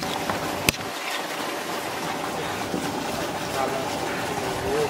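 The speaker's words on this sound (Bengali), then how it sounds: "ভালো করে ধুতে হবে, ভালো করে ধুয়ে নাও।" Water gushes steadily over duck meat being washed, a constant close splashing rush with a single sharp knock early on.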